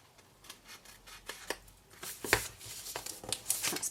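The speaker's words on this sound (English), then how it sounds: "Let's get some smaller scissors." Small scissors trimming paper for a watercolour treat bag, giving a series of quiet, close snips and light paper rustles that grow busier toward the end.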